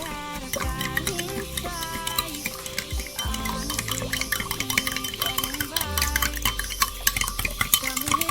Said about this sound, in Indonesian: Kita aduk sampai garam terlarut dalam air.